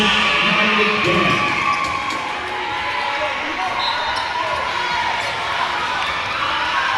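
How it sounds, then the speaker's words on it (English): A large crowd at a first-round 5A high school girls' volleyball playoff match in a gym cheers and roars, loud and steady, under a commentator's voice. "Quite the crowd here in round 1 of the 5A volleyball playoffs."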